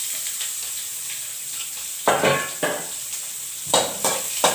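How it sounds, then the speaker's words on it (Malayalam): Chopped onion sizzles in hot oil with mustard seeds and curry leaves for a beetroot stir-fry. A steady frying hiss is broken by several loud scraping strokes of a spatula against the pan, and no one speaks. "പിന്നെ നമ്മൾ അരിഞ്ഞു വെച്ചിരിക്കണം ഉള്ളി അതിലേക്ക് ഇടുക."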